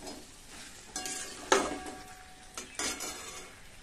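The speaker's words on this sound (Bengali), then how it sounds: "এটাকে ভালোভাবে ভেজে চিকেনটার সাথে মিশিয়ে নেব।" Onion frying in a pan and being stirred into chicken, with soft sizzling under scraping and clinking spoon-on-pot strokes, a few sharper knocks standing out.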